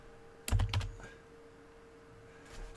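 Quiet, close computer keyboard typing, a quick cluster of keystrokes followed by a pause and a few more faint taps.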